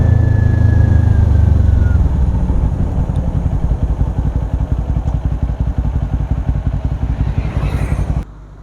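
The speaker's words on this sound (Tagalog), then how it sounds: "So this is our bike for today, the Kawasaki Ninja 400." A 2022 Kawasaki Ninja 400 motorcycle idling up close by the roadside, a loud steady rapid putter with a brief higher engine whine early on before the sound cuts off.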